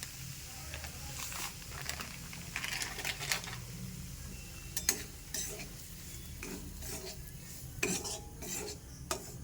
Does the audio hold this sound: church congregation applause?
no